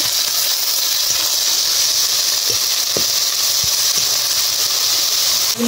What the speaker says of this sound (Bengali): দিয়ে দেবো আদা বাটা, টমেটো কুচি, জিরে বাটা। মশলাগুলি ভালো করে কষে নেব।